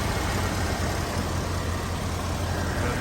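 A steady, low engine rumble from a 1985 Ford Bronco's 351 V8 idles without change, smooth and continuous, recorded up close with no talking.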